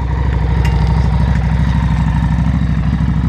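A 2015 Harley-Davidson XG750 Street 750 fitted with a DG exhaust idles steadily, a loud close-up throb with an even low pulsing rhythm throughout and no voices.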